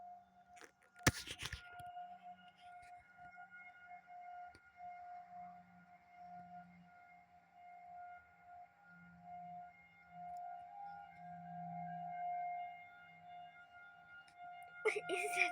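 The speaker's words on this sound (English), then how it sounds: "What is that siren noise?" An outdoor siren holds a steady, wavering tone for about fifteen seconds, moderately loud with a distant quality, while a voice speaks briefly over it and a sharp bump breaks in near the start.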